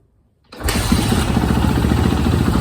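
A 2008 Suzuki RMZ450 dirt bike kick-started on the first kick: quiet at first, then the engine catches suddenly and settles into a loud, close, rapid idle thump.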